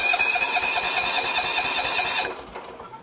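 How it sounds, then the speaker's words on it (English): Starter cranking a Kawasaki FC420V engine on a John Deere 170 mower, a high, rapid whirring grind that runs steadily for about two seconds before cutting off abruptly, with no catch. "But I'm going to try to crank it again."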